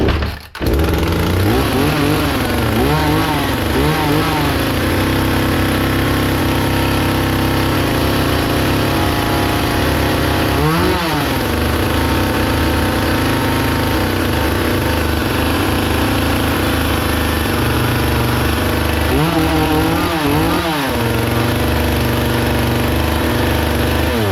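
A Hyundai 450 chainsaw with a high-idle fault runs nonstop at high revs, a loud, close, buzzing two-stroke drone with a few brief wavering dips in pitch.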